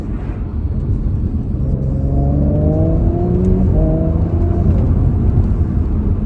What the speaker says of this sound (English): You can hear the turbo flutter a little bit